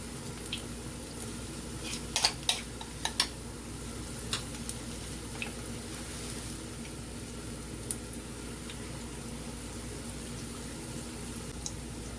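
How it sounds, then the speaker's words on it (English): Banana fritters fry in hot oil in a Caribbean kitchen, with a soft, steady sizzle broken by scattered small pops and no talking. "we're going to fry them until they're golden brown."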